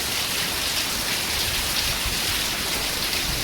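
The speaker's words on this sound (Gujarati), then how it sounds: "સુંદેઠામાં જોરદાર વરસાદ." Heavy rain pours down steadily in Mudetha, a dense, loud, unbroken hiss of drops hitting surfaces with no voices heard.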